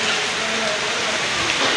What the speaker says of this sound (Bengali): খুব জোরে সোরে বৃষ্টি হচ্ছে